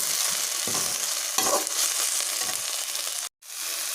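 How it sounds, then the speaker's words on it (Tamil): Mint leaves sautéing in a pan for mint rice, with a steady close sizzle and repeated scraping stirs. It stops for a brief moment near the end and then resumes. "இப்போ நல்லா இதை வந்து நம்ம விதக்கிடுவோம்"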